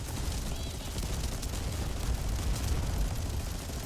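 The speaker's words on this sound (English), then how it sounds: "What I'm hearing is more explosions." Explosions in The First Descendant video game roll together into a continuous loud, rumbling wall of blasts and rapid gunfire with no clear breaks.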